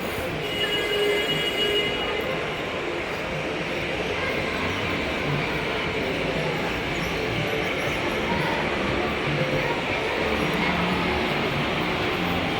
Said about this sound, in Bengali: ও ট্রেন যাচ্ছে